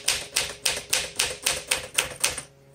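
A 1961 Smith Corona Sterling 5A manual typewriter being typed on: eight crisp, evenly spaced key strikes in a steady rhythm, close and clear, then stopping.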